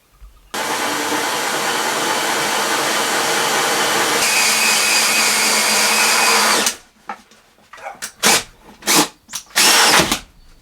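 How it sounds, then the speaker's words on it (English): A power drill fitted with a 98mm hole saw whines loudly and steadily for about six seconds cutting through a caravan wall, its pitch shifting as it cuts, then stops, followed by short clattering knocks. "I've got myself a 98mm hole saw, and I'm about to drill a hole"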